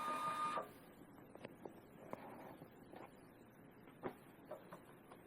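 A Zebra 140Xi3 Plus label printer runs a sensor profile print: a brief whine at the start, then a series of soft mechanical clicks and ticks at irregular intervals, quiet and close.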